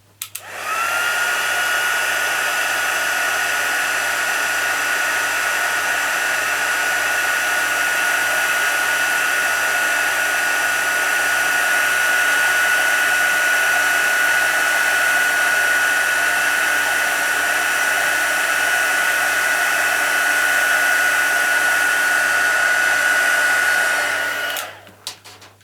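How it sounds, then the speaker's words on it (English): A handheld heat tool blows hot air in one loud, steady whine for about twenty-four seconds during a papercraft card-making job, starting and stopping abruptly. "Bring back the heat tool, and excuse the noise again."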